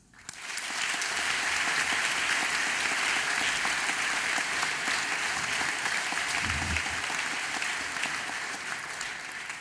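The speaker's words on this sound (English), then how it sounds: "please join me in giving a round of applause for all students, teachers, parents," A large crowd applauds at a high school commencement ceremony, the clapping swelling in quickly and then holding as a thick, even roar of hands for the full stretch before easing slightly at the close.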